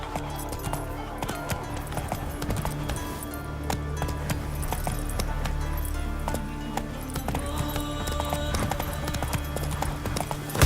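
Horse hooves galloping in The Witcher 3, a rapid, steady clip-clop rhythm that stays close and loud throughout, layered over game ambience and a faint clink of tack, with no speech.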